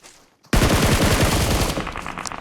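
A shotgun fires in an online video game, a loud sudden blast after a brief quiet, followed by a burst of rapid gunfire that stays dense to the end.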